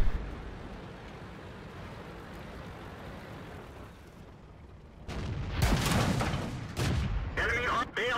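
Tank cannon fire in World of Tanks while driving the M3 Lee, with a low rumbling engine bed, then sudden heavy booming shots and impact crashes in the final seconds, loud and close.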